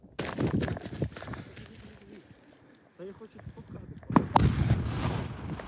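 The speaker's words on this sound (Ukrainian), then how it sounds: "Цей вибух зовсім невеликий." A sharp, loud blast of detonating ammunition bursts out, followed by rumbling debris and scattered impacts of flying stones, with a voice speaking before and around it.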